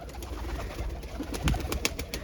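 Pigeons coo softly at close range in a few low, murmuring calls, with faint background chatter and small clicks around them.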